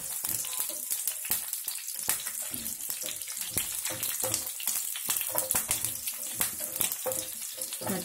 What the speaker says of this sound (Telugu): పోపు దినుసులు వేగుతున్నాయి